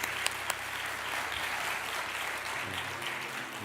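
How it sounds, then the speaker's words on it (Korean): A church congregation clapping to encourage a pastor during an early-morning prayer service, a soft, fairly distant patter of applause that continues evenly before thinning out. "박수로 우리 격려하겠습니다"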